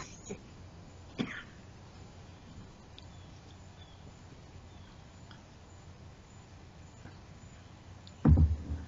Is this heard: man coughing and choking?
yes